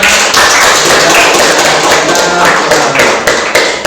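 A burst of loud, dense clapping from a class of students in a classroom, continuous for a few seconds before thinning out at the end.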